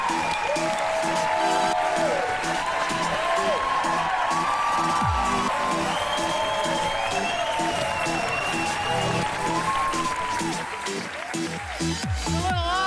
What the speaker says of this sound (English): It's a little awkward when one of the guests gets more applause than the star, the legend.